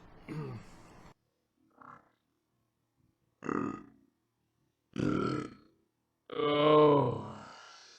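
Several loud, deep burps come one after another with short silent gaps, the last one long and gravelly, from a person eating sriracha.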